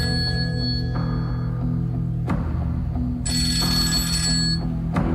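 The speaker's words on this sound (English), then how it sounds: "She called his phone that day, like, I don't know how many times it kept going off." A telephone rings repeatedly, its steady electronic tones sounding close and clear over a continuous background hum, with no voices.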